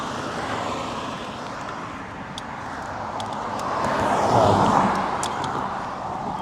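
Road traffic passes a cyclist on the West Orange Trail in Florida, a steady broadband roar that swells as a vehicle goes by midway, with small clicks and ticks from the bike on top.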